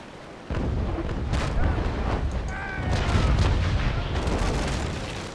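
Ship cannons firing from the stern of a sailing warship in the naval combat game Naval Action, heavy booming blasts that settle into a sustained rumbling roar, loud and close.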